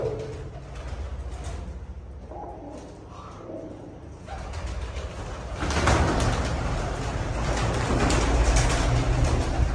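Pigeons coo in a large room used as a loft, including a newly paired couple with a ringed-neck hen, their low calls mixed with shuffling and rising background noise that grows louder midway.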